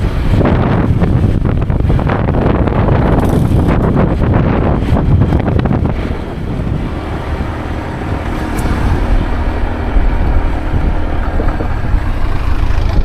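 Strong, steady wind buffeting the microphone at Fort Santa Isabel in Palawan on a hot summer day, a constant low roar that eases slightly midway, with faint distant activity underneath.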